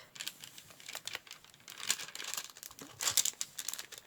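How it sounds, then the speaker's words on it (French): Sheet of paper crinkling and rustling under a forearm while drawing, a quiet close series of irregular dry crackles and scratchy bursts with no talking. "Et ce papier qui fait plein de bruit, ça m'agace"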